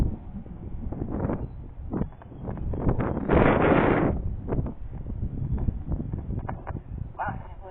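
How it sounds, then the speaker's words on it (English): Strong gusting wind buffets the microphone outdoors while riding a horse, loud roaring bursts rising and falling throughout, with a voice speaking briefly under the noise. "Wow, I can't believe how windy it is."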